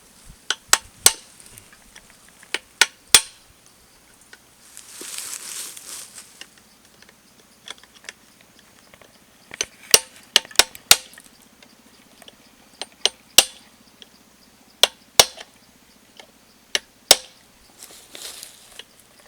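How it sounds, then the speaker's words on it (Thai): Someone hammers in a final fastener in rural Laos, sharp irregular strikes ringing out loud and close, with short pauses and no talking. "เอามาเบิ่งตอกน็อตสุดท้าย"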